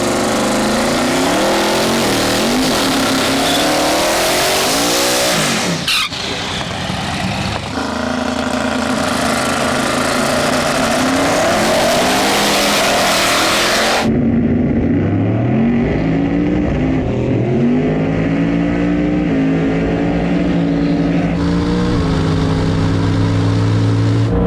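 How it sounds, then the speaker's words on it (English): Holden Commodores drag racing at night, the Blue Commodore against a VL Commodore, both mid 8-second cars, roar hard under full throttle with rising revs and gear changes, then the sound cuts sharply to quieter idling and lighter engine revving. "Last race of the night, we got Legless and the Blue Commodore, and then the Jekyll and Hyde VL Commodore,"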